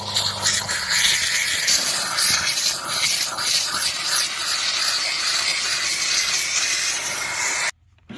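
A steam cleaner works over the interior of a classic Mercedes 190E, giving a loud continuous hissing spray with rubbing textures that cuts off abruptly near the end.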